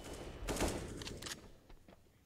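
Counter-Strike gunfire ending in a headshot kill during a pro tournament match, a faint quick burst of shots followed by a few scattered softer pops.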